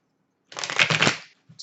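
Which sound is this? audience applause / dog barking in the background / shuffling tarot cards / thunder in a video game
shuffling tarot cards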